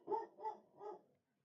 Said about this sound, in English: Sorry about the dog. Sorry about the dogs.